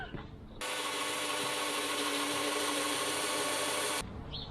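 Power driver running screws into a van partition wall, a steady loud whirring drone of about three and a half seconds that starts and stops abruptly, with quieter room sounds before and after.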